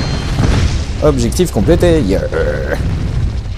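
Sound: explosions in the video game Project Root

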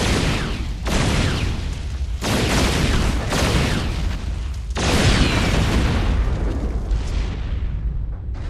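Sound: hover tank railgun fire and explosions in StarCraft II video game

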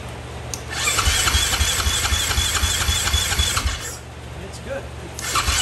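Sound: KTM 500 EXC motorcycle engine cranking and starting

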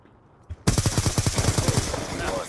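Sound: light machine gun firing in a video game

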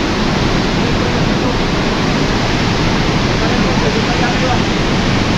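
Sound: Pailón del Diablo waterfall roaring in Ecuador

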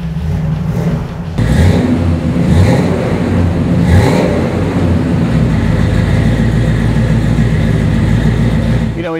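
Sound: car engine revving, Flowmaster dual exhaust

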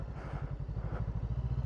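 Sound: motorcycle riding over rough road

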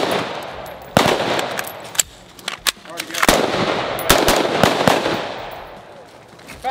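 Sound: AR-15 rifle gunfire during training drill

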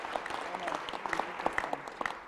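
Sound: audience applause

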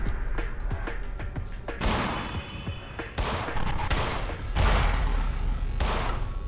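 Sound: gunshots in the video game In Sound Mind

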